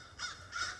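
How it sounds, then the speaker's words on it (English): A flock of crows cawing outdoors, two distinct harsh caws in quick succession, moderately near. "oh wow, look at all these crows"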